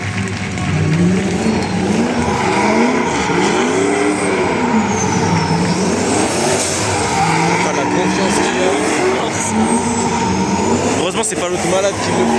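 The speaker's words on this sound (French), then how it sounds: "Faut la 86 là. Avec son bruit de fou malade là" A turbocharged Toyota 86 drift car revs loudly, its engine pitch rising and falling in long sweeps as the tires squeal, close and continuous, with people talking over it.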